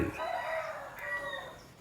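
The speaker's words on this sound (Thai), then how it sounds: "ก็ฟังเสียงไก่เป็นซาวเอฟเฟกไปด้วยนะ" A rooster crows once at a house where chickens are kept, a single drawn-out call heard at a moderate distance, fairly faint, with no talking.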